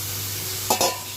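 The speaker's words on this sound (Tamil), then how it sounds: "இப்போது அடுப்பை ஹையில் வச்சுட்டு நம்ம எடுத்து வச்சுருக்கிற காயை இதில் போட்டுடுங்க." Bitter gourd pieces tossed into hot masala over high heat give a steady close sizzle, broken by two quick scraping stirs of the pan.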